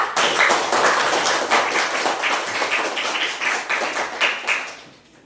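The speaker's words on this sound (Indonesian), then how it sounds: "Tepuk tangan untuk quote-nya ya." A small group of classmates claps at a morning class presentation, a dense patter of hand claps lasting several seconds before it fades out, close and fairly loud, with no talking over it.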